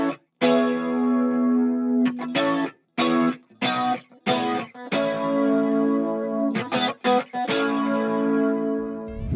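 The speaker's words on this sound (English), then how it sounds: "So with everything turned on, this is generally what the rhythm tone should sound like." Clean rhythm electric guitar tone for a riff, played through a HeadRush Revalver amp simulator with chorus-like effects; rhythmic chords and short stabs ring out alone, with brief muted gaps between phrases.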